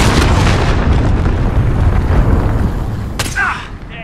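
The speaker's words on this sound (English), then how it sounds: "Allied cruise missile away." An allied cruise missile strike in the Call of Duty: Modern Warfare video game, heard as a loud, sustained booming explosion rumble that fills the clip and fades toward the end, close and heavy.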